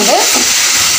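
Soya chunks stirred in a hot pan with soy sauce, a close scraping and stirring over a steady sizzle of frying, with no talk.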